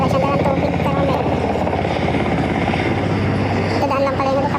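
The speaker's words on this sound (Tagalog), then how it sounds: "Dadaan lang pala yung helicopter." A helicopter passes overhead near a burning paint factory in Tainan, Taiwan, its steady loud rotor thump constant throughout, with people talking beneath it.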